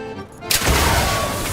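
A huge explosion in The Outer Worlds 2 erupts suddenly after a quieter moment, a loud, close broadband blast that rolls on as a sustained roar and rumble for over a second.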